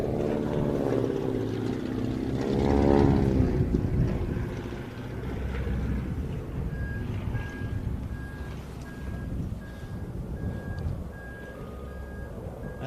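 A yellow aircraft lands at the Royal International Air Tattoo, its engine a steady, loud broadband roar over wind noise that dips slightly while a faint tone pulses intermittently.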